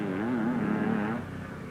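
A Greaves Challenger scrambling motorcycle with new front suspension races in a 1950s scramble, its engine note rising and falling in a wavering whine at moderate distance before dropping off.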